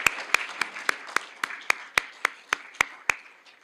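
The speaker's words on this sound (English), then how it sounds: "Let's give him a round of applause." Applause at a business college alumni awards luncheon comes through as about a dozen sharp, evenly spaced claps over a soft background of scattered clapping from the room.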